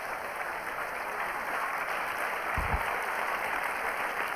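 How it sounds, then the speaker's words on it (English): Applause from an audience at a science festival talk, a steady, even wash of clapping that holds at moderate loudness throughout without rising or fading. "let's give Maddie a nice round of applause"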